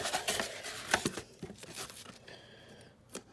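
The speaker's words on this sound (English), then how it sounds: "I'm pre-cutting a couple of my tapes so I can" Tape strips are torn and crinkled in quick, close bursts, then a brief quiet stretch with a faint whine before one last sharp rip.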